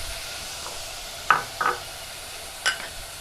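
Garlic paste fries with golden-brown onions in a pot, a soft low hiss broken by three or four brief scrapes and clinks of stirring.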